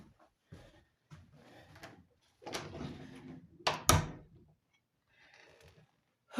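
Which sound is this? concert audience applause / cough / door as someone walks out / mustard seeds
door as someone walks out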